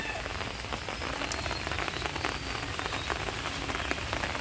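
Steady rain falls during the rainy season, pattering densely on surfaces nearby in an even, continuous wash of drops with no voices.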